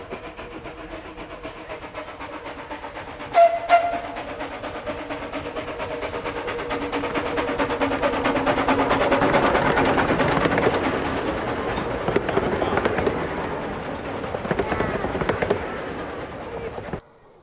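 A 0-6-0 steam tank locomotive on a 15-inch gauge railway works hard up a grade, rhythmic chuffing swelling louder as it nears, with a brief whistle early on.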